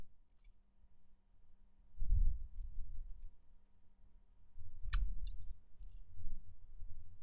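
Computer mouse clicks while working in 3ds Max, a few faint, sparse clicks separated by pauses, with soft low thumps of handling in a quiet room.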